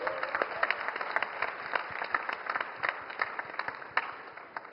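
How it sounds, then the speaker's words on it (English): A crowd applauds at the WAVES 2025 music industry event: thick, continuous clapping from many hands, steady and full for several seconds with sharper individual claps poking through. "A big round of applause to him."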